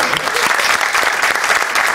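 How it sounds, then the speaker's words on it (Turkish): Audience applause at a Turkish stand-up comedy show as a guest from the crowd is welcomed on stage, loud continuous clapping filling the whole moment without a break. "Alkışlayalım."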